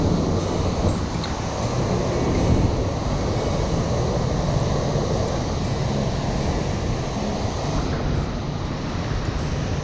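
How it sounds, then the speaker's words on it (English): Strong, cold wind pours down off a mountaintop and waterfall on the Half Dome trail in Yosemite, a loud, continuous roaring rush buffeting the microphone throughout. "Got some incredible wind coming off the top of the mountain, off the falls."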